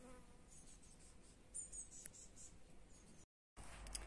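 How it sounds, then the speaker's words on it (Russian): Bees buzz faintly around flowers in a June garden, a soft, thin drone that swells and fades as they pass, with a short gap of silence near the end and no talking. "Пчелки вокруг летают."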